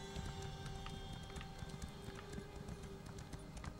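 Horse hooves clip-clop steadily in Elder Scrolls Online gameplay, a quick regular trotting rhythm, close and constant under background game ambience.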